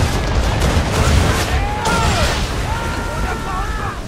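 Ship cannons firing a broadside in the Assassin's Creed III video game, a loud rumbling volley of booms over steady battle noise, with voices calling out in the mix.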